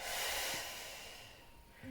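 A long, breathy exhale during a Pilates breathing exercise, soft and close, fading out before a small nasal sound at the end.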